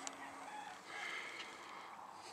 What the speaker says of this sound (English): Rooster's in the distance.